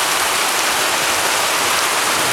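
Heavy rain pours steadily during Kenya's short rainy season, a dense, close, unbroken hiss with no voices.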